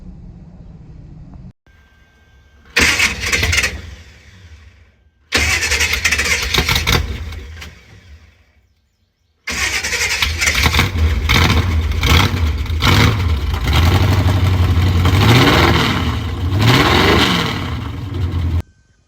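A demolition derby car whose battery has lost most of its fluid cranks and fires up, then revs in loud bursts with short pauses between them, settling into a longer stretch of rough, rising and falling engine roar.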